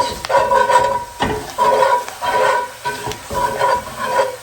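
Flour cooks in a hot pan while a spatula stirs it in rhythmic strokes, giving repeated scraping swishes about every half second over a light sizzle, close and fairly loud.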